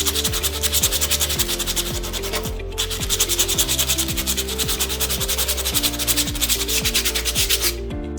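Sanding the slot in a wooden coffee table by hand, a steady rhythmic back-and-forth rubbing, close and fairly loud, with a brief pause midway and no voices.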